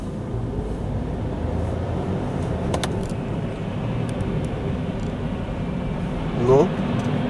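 Car interior while stuck in a city-centre traffic jam, with a low, steady engine and road rumble throughout, a couple of brief clicks and a soft whine near the end, and people talking over it.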